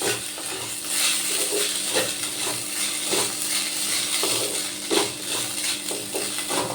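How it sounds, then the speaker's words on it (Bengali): Soaked sago pearls fry in a pan, giving a steady close sizzle broken by regular scraping strokes from a stirring spoon. "এবার আমি সাবুগুলো একটু ভালো করে ভেজে নেব।"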